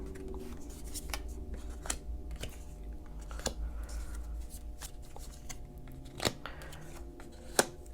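Tarot cards being shuffled by hand at a reading table, a soft continuous papery riffling with a few sharper card snaps scattered through, close and fairly quiet with a low steady background hum.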